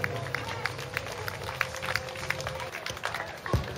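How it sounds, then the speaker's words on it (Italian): Audience applause at a talent show, a dense, steady patter of clapping hands from a crowd that carries on throughout at a moderate level. "Facciamo un forte applauso."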